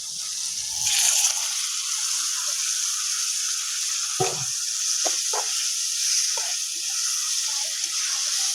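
Onion, tomato and coriander mixture for an anchovy fish curry hits a hot pan with a bright, steady hiss, the sizzle holding loud and constant while a few soft stirring knocks sound underneath.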